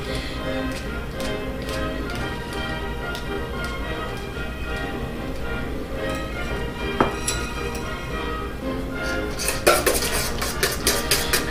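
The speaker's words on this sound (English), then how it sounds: "We're going to run that right through a strainer." Hibiscus liquid is poured through a metal strainer for an exotic sorbet, with steady clinks and clatters of the strainer and kitchenware and a few sharper metallic taps near the end.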